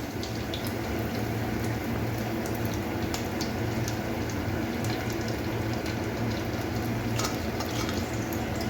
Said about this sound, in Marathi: अशा प्रकारे आपले वडे तळून झालेले आहेत